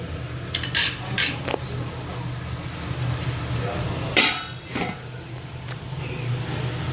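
Paneer frying in oil in a pan while a Gujarati paneer, corn and capsicum sabzi is cooked: a steady low sizzle runs under sharp metallic clinks and scrapes of utensils against the pan, close and fairly loud.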